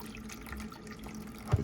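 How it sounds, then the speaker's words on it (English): Concentrated vinegar is poured into the detergent dispenser of a washing machine, making a faint, steady liquid trickle and splash that stays quiet and continuous throughout. "I just take this and I pour it where the detergent goes"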